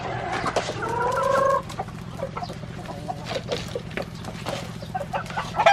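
Backyard chickens cluck up close in a flock, with a louder harmonic calling burst early on, then scattered clucks and chatter over a steady low hum.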